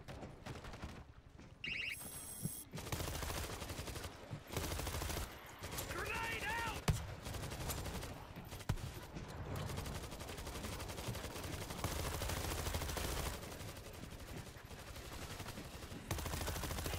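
Automatic rifle gunfire in World War Z, repeated sharp bursts and volleys of shots crackling through a busy, loud battle soundscape with chaotic bangs throughout.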